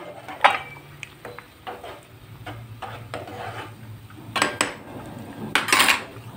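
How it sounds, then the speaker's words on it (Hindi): Metal spoon scraping and clinking against a cooking pot while salt and spices are mixed in for aloo matar biryani, a few scattered taps and rubs with louder clatters near the start and end, no talking. "इसको हमने थोड़ा मिक्स करना है।"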